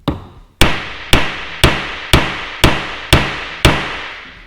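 Hammer blows on a 10 millimeter socket, driving a stuck bearing out of an Aquatec DDP 5800 water-methanol injection pump in a garage. Eight sharp, loud metallic strikes land at a steady, even pace, each ringing briefly before the next.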